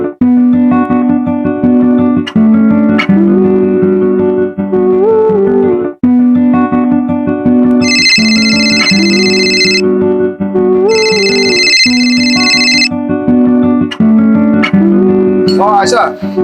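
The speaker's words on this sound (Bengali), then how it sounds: "দাঁড়া আমি মানিক ভাইয়ের ফোন দিতাম" A mobile phone plays a loud, continuous electronic ringtone melody while a call is placed, with bright bursts of high tones, heard in a Bangladeshi drama scene.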